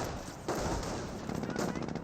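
Rapid MG42 machine gun fire from a World War II battle in the strategy game Company of Heroes, a dense, steady rattle of bursts with a distant battlefield wash behind, louder after the first half second.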